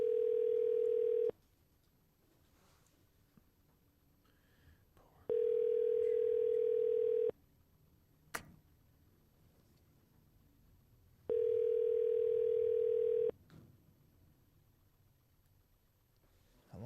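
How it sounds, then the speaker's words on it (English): A ringback tone on a phone call: three long, steady tone bursts separated by pauses of silence, clear and up front with faint background noise between them. "How long is it going to ring for?"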